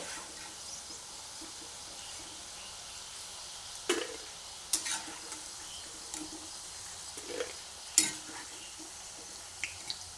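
A quiet, steady frying hiss of soya chunks with scattered light pops and a few soft clinks of a spoon against the pan.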